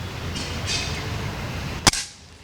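A single sharp rifle shot cracks out once near the end, loud and close over a steady outdoor background hiss.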